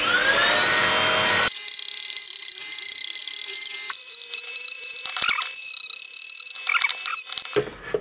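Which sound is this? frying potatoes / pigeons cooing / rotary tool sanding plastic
rotary tool sanding plastic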